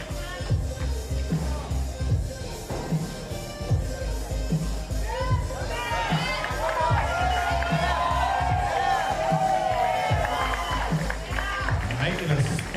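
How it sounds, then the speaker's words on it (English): Crowd at a street workout championship pull-up competition cheers and whoops for a competitor's final attempt, a sustained roar of voices swelling in the second half over steady rhythmic thumping and background talk. "Big round of applause for Lena Christensen and her last attempt in the Nordic pull-up competition"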